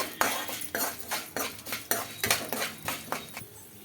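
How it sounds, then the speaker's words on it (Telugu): Chana dal and urad dal being dry roasted in a pan for bitter gourd spice powder, giving a steady run of dry rattling and scraping strokes, close and moderately loud, with no talking. "కొద్దిగా మినప్పప్పు వేసి బాగా ఫ్రై చేసుకోవాలండి వీటిని"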